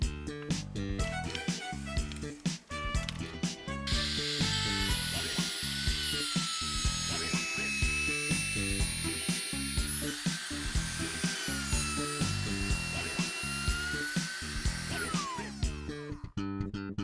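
A wood trimmer router cuts a groove in a DIY workpiece, guided by a homemade trimmer jig: a sustained high whine starting a few seconds in and holding steady, loud and close, over a busy tapping backdrop, then cutting off near the end.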